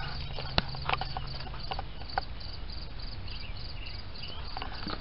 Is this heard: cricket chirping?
yes